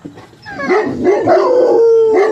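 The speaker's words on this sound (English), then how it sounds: "You hear those dogs barking." Several dogs howling and yipping close by, drawn-out wavering howls overlapping with short yelps, loud and outdoors in the morning.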